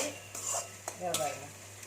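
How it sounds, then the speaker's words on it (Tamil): Onions sauté in a pan for a potato poriyal, with a soft sizzle under repeated close spoon scrapes and taps against the pan, no voices. "இப்போது வெங்காயம் நல்லா வதங்கிடுச்சு"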